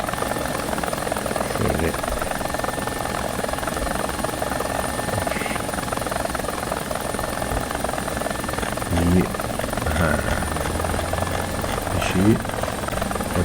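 Premium attack helicopter in War Thunder coming in to land, a steady close rotor and turbine drone running throughout with a high whine on top, plus a few brief thumps and bumps near the end.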